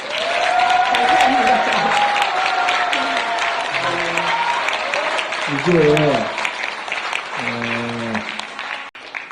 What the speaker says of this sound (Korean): 고생하셨다고 박수 한번 해주세요